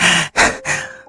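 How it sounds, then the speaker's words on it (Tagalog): Heavy, labored panting from a person, three loud rasping breaths close to the ear with short gaps between them, trailing off at the end. "Umatake na naman niyang hingal mo."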